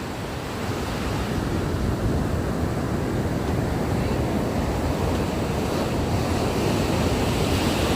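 Sea waves wash up over beach sand in a loud, continuous roar, wind buffeting the microphone and no voices heard.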